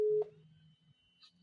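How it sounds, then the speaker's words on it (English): Call tone on a Samsung Galaxy A05 smartphone: a short, loud steady beep at the start, followed by quieter low hum and a faint higher tone near the end. "Let me make a call on this particular phone."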